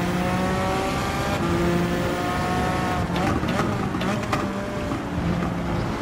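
Suzuki Escudo Pikes Peak race car in Gran Turismo 7, its engine note steady and loud throughout with rising harmonic tones as it climbs through gears, a few sharp shift blips near the end.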